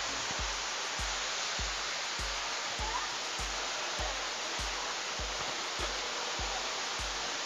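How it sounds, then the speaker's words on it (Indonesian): Grenjengan waterfall at Pacet in Mojokerto pours as a loud, steady broadband roar of falling water, close and unbroken, with a repeated low thumping beneath it. "Tepat persis di belakang saya adalah air terjun Granjengan di Pacet."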